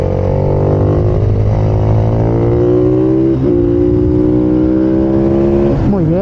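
A KTM SMR supermoto motorcycle accelerates hard on a karting track, its loud engine climbing steadily through gears with brief dips at shifts, close up and continuous.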